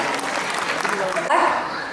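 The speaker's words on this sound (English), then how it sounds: "Let us give them a big round of applause" Brief, dense applause from a school annual day audience fills under two seconds, loud and continuous throughout.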